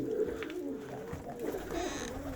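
A male pigeon cooing inside an aviary, low throaty coos repeating in a steady rolling rhythm, close and clear with faint rustling around it.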